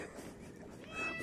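A laid-back adoptable female cat gives a soft, fairly quiet meow that rises near the end, with no voices over it.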